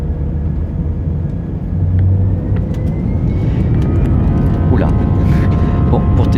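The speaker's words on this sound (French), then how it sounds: "je fais un décollage en avion, comme je suis en train de le faire ici pour aller à Lisbonne" Loud, steady jet airliner cabin roar during takeoff on a flight to Lisbon, a dense low rumble that swells slightly after the first couple of seconds and holds constant, with faint rising engine whine.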